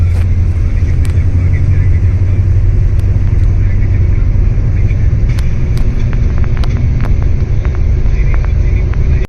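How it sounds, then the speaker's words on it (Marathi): A bus engine idles with a steady, deep rumble before setting off on an overnight trip, loud and constant throughout, with faint background voices and occasional small clicks and clatter over the drone. "आता एक दोन मिनटामध्ये निघेलेच गाडी इथून"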